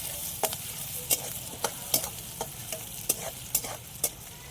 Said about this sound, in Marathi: आता कांदा पण मस्त असा पिवळा होईपर्यंत, लाल होईपर्यंत परतून घेतलेला